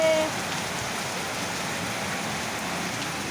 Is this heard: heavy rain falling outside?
yes